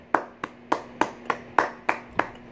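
Hand clapping: eight sharp, evenly spaced claps at a steady moderate pace, close and clear with a faint background hum and no talk.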